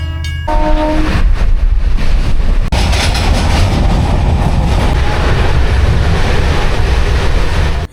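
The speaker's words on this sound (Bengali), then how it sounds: "দীর্ঘ 15 মিনিট অপেক্ষা করার পর আমাদের ট্রেন দুবরাজপুর স্টেশনে এসে পৌঁছেছিল" A train arriving at Dubrajpur station rumbles loudly and continuously, a brief horn-like tone at the start, then steady heavy rolling noise of carriages close by.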